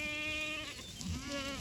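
Goat does and their kids bleat on a farm, overlapping harmonic calls from several animals close by, one wavering cry fading as another rises.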